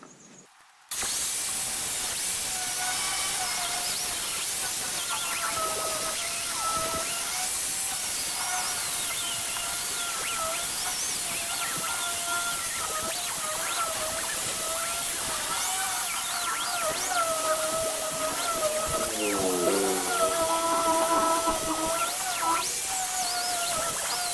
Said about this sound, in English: when I put the sander to it